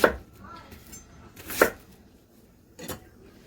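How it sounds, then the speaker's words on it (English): A kitchen knife chops through an onion on a cutting board as it is trimmed and quartered for beef stock, three separate sharp cuts spaced out with quiet pauses between them, close and fairly loud. "cut off the ends and kind of quarter it up"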